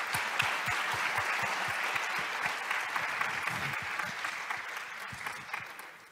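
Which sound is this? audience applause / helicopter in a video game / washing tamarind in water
audience applause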